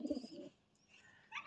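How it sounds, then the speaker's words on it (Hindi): Pigeons, a black one and a white one squabbling, coo in soft low bursts near the start, then a quieter gap before sharper higher calls return at the end. "ये काला दो बाज कबूतर और व्हाइट वाले कबूतर का झगड़ा खत्म ही नहीं होता"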